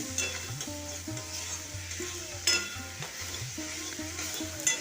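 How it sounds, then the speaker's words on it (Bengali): A spoon stirs turmeric, cumin and coriander powder into a cauliflower and soybean curry in a pan, with steady soft frying sizzle and light repeated scraping, close and without talk. "এরপর আমি খুব ভালো করে মিশিয়ে নিচ্ছি"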